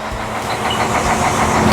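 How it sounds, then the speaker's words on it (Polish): The diesel engine of a railbus keeps running at idle so it can cool down, giving a steady, close, droning hum with a faint rhythmic knock. "Silnik jeszcze chodzi żeby się tutaj wszystko zdążyło schłodzić te Webasto, nie można tego wyłączać od razu"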